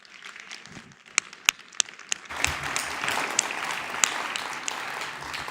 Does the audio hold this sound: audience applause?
yes